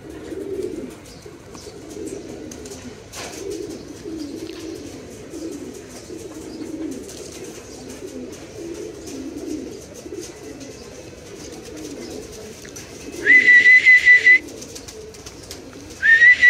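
Pigeons cooing nearby, a run of soft, low, throaty coos repeating in a loose rhythm, with a few brief bright whistle-like bursts near the end and no speech.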